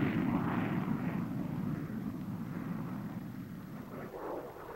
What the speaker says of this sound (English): It's early dawn as the A-4D Skyhawk is spotted on the catapult.